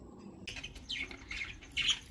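Two paired cockatiels squawk in short, harsh bursts against a quiet room, several shrill calls spread over a couple of seconds, fairly close and with no talking.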